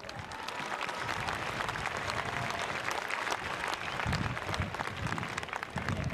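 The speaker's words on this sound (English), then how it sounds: "Ladies and gentlemen, again, I'd like you to give yourselves a round of applause." A baseball game crowd applauds: dense, continuous clapping from many hands at steady loudness, filling the whole stretch without a break.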